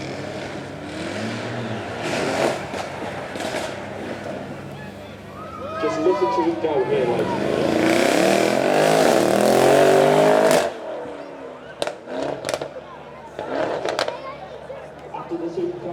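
A Mercedes E63S at a supercar weekend revs hard in short bursts, the engine note rising and falling through several swells before a sustained loud peak that cuts off sharply, with crowd chatter and an announcer's voice around it.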